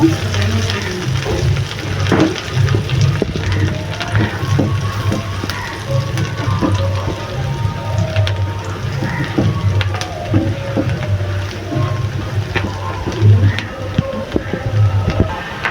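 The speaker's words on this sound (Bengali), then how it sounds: "তারপরে এই তেলের উপরে রসুন কুচি দিয়ে দেব" Chopped garlic fries in hot oil, a continuous close sizzle dotted with crackles and spatters for roughly sixteen seconds.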